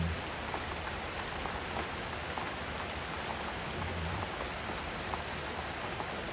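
Steady rain falls on a green sugarcane field, a dense, even hiss with scattered close drops tapping throughout and no voices.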